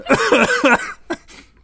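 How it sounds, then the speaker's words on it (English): A person coughing hard after swallowing something wrong, a quick burst of three or four harsh coughs followed by a couple of weaker ones, close and loud. "I'm going to be coughing for a while."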